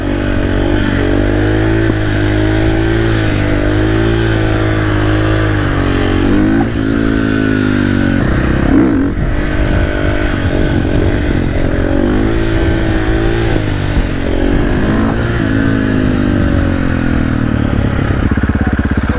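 A 2024 Yamaha R1 sport bike pulls hard in first gear, the engine note sweeping up and dropping back repeatedly in loud, close revs with a brief clattering lull midway, alone without any voices.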